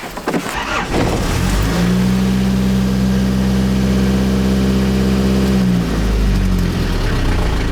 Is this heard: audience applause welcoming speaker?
no